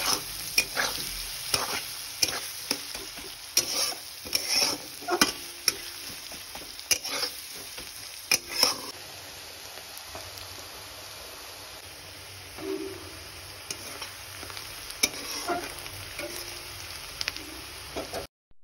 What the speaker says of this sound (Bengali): এবার আমি সবকটা উপকরণ ভালো করে মিশিয়ে নেব।